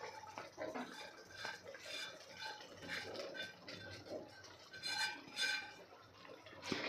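Green peas stirred into masala in a pan: soft, irregular scraping and clinks of a spoon against the metal with faint wet squelching, quiet and close, no talk.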